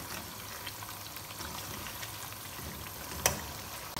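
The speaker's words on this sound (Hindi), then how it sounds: "अच्छी तरह से हमने कलेजी की भुनाई की है।" Mutton liver sautés in a pan with masala, a quiet, even sizzle and crackle throughout, with one brief sharp clink of a utensil.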